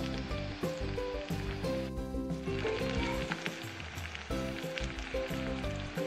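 Steady, loud sizzling of onion and garlic frying in hot oil, with occasional crackles and pops throughout.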